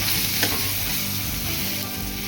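Malvani masala being stirred into mutton in a hot pan, a steady close sizzle with scraping spoon strokes running continuously and alone.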